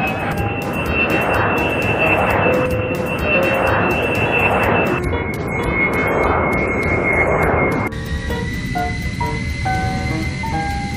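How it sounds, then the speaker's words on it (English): A jet airliner roars with a steady broadband rush and high whining engine tones, loud and close throughout. "Jet airliner."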